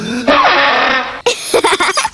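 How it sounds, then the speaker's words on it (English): The spal throttle, a cartoon elf band instrument, lets out a loud, raspy, buzzing blare lasting about a second, then stops abruptly before a quick run of choppy, voice-like sounds. "That's the spal throttle."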